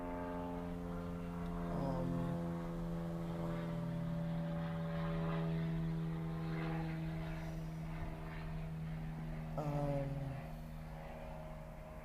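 Propeller airplane passing overhead, a steady droning engine hum that swells and holds through the whole stretch, with a short voice cutting in near the start and again near the end.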